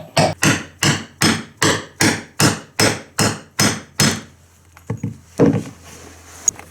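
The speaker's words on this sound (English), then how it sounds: "Now what I'm going to do is I'm going to hammer a hole right into this slate." A hammer strikes a nail set to punch a hole through a slate tile, giving eleven sharp, evenly spaced taps up close, followed by a few quieter knocks and handling sounds.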